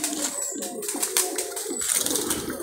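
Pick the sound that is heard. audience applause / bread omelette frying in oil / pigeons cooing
pigeons cooing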